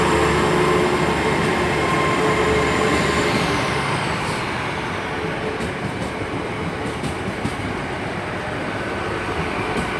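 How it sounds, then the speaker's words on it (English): Class 800 unit 800-023, a five-carriage train bound for London Paddington, pulls out of Bristol Temple Meads with a loud, steady rumble and engine drone that slowly fades, with no talking over it. "Also departing out is 800-023, heading to London Paddington."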